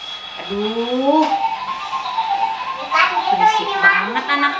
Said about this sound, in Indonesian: berisik banget anak-anak